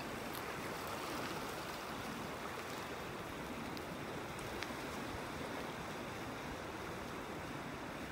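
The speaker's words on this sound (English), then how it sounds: "The tide is still going out here, moving really fast." Fast ebb-tide water rushing out of the Cocohatchee River on a beach in North Naples, Florida, a steady broadband wash of flowing water and surf, continuous and fairly even in level throughout, with no talking.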